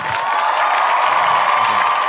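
Studio audience on an Indonesian TV dance competition breaks into loud, sustained applause and cheering for the dancers, a dense wash of clapping with scattered shouts, filling the whole moment without pause.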